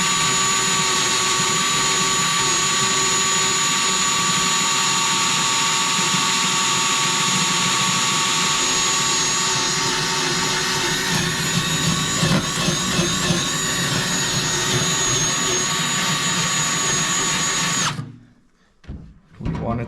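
A power drill fitted with a larger bit runs loud and steady for about eighteen seconds, a continuous whirring drone with a shifting tone midway, then cuts out abruptly into near silence, in an arcade machine repair setting.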